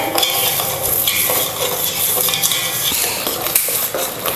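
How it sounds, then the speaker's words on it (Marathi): Sugar syrup for rava laddu being stirred constantly in a pan, with close scraping and clinking of a spoon against metal over a light bubbling sizzle. "आपल्याला असं सारखं हलवत राहायचं"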